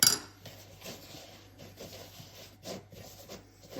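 A spoon scrapes and squelches through homemade snow made from shaving foam in a bowl, giving a steady series of soft, close rubbing strokes at a regular mixing rhythm.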